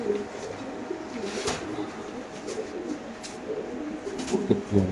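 Pigeons coo softly and repeatedly nearby, low throaty warbles with occasional wing flutters and faint background noise.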